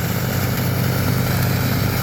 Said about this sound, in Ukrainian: дочекався комбайна